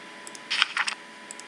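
A computer mouse clicks and right-clicks in a few quick, close, crisp taps, with faint clicks before and after a short cluster of louder ones.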